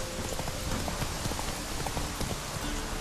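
Horse hooves clip-clopping steadily along a road in The Witcher 3, a quick regular patter of hoofbeats heard close and alone over a constant rain-like wash.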